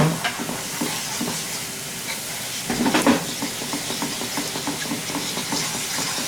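Tonkatsu sauce and mayonnaise stirred together in a hot pan sizzle steadily, with repeated scraping strokes of the utensil and a louder burst of frying partway through; no one speaks.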